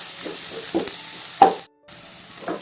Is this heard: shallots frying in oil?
yes